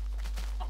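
A chicken in the Minecraft video game gives a short series of soft clucks over a loud, steady low hum, the whole burst lasting under a second.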